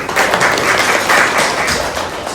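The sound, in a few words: audience applause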